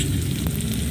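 Sliced onions sizzling in hot oil in a pan, a steady, close, even hiss with no talking over it.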